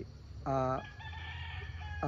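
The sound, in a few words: rooster crowing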